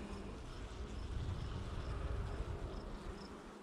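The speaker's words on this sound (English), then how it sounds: "Now these bees are just a little more agitated than normal." Agitated honey bees hum steadily around an open hive during a frame inspection, a dense, continuous buzz that stays close and fairly even throughout.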